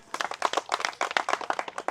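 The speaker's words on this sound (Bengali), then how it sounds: "দর্শক মন্ডলী, একটা করতালি দেই।" A small audience claps at a rural village football game: quick, dense hand claps close by that keep going for about two seconds, with no voices over them.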